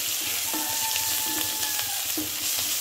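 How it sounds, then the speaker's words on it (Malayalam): Curry leaves fry in a hot pan while being stirred for poha upma, a loud, constant hissing sizzle with soft scraping strokes and a faint ringing tone under it, heard close with no voices. "നന്നായി ഇളക്കി കൊടുക്കാം."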